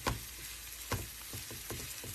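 Sliced onions soften in a pan on low heat for a mushroom empanada filling, giving a quiet, steady sizzle with a few soft stirring knocks, close by and without voices.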